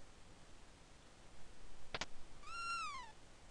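A single short, faint cat meow from the video game Chrono Trigger rises and falls in pitch, preceded by a brief click, over quiet background game sound.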